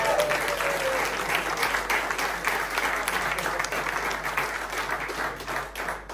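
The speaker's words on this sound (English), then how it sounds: "A massive round of applause for theough club" An audience at a Red Special guitar meetup claps in a dense, sustained round of applause that holds steady from start to finish.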